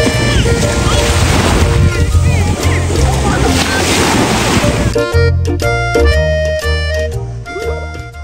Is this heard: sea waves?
yes